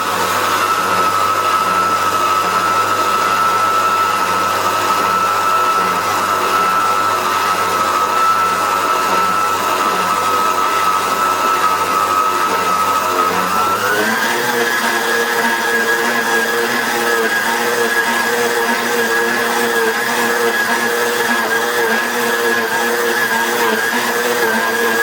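A dough kneading machine works a sourdough bread dough of semi-whole T110 and T65 flour, its motor whining steadily and then shifting to a higher pitch halfway through, loud and continuous with no voices.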